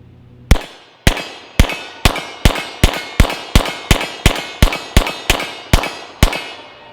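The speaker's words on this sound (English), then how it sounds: "I'm really liking the way this gun shoots" Pistol shots fired at a target 25 yards away, about twelve sharp loud cracks in a steady rapid rhythm, each with a short ringing decay, with no talking.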